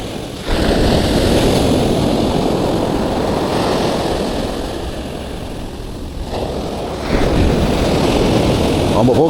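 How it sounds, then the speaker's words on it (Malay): Rough ocean surf breaks on a beach during a surfcasting fishing outing, a loud continuous roar of crashing waves with wind, swelling again near the end. "Ombak pun kasar sikit."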